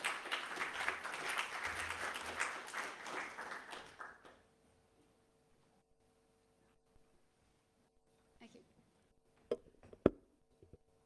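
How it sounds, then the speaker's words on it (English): Audience applause welcoming a speaker to the stage at a research software talk, a steady burst of clapping for about four seconds that stops abruptly, followed by near silence with a few faint bumps and clicks. "Give a warm round of welcome, of applause to Julia."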